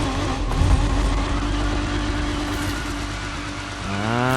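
A car burnout in the racing game Need for Speed Unbound, with a loud engine droning and revving steadily as the tires spin, ending in a rising rev.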